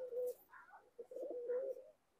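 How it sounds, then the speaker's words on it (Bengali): Pigeons from a running breed pair for sale coo close by, with two soft rounded bursts of low cooing separated by a short pause, clear and without talk. "রানিং পেয়ার কবুতর।"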